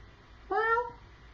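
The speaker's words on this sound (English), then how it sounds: "So that was my cat." A domestic cat gives a single clear, close meow that rises and then tails off, heard indoors against a quiet room background.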